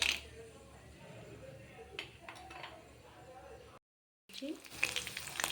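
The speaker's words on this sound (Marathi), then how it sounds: "आपण तेलामध्ये जिरं आणि मोहरी घालून घेऊया। तर यामध्ये आपण शेंगदाणे घालून घेऊ" Cumin, mustard seeds and peanuts frying in hot oil in a pan for upma, a soft continuous sizzle with faint crackles, briefly cutting out before resuming.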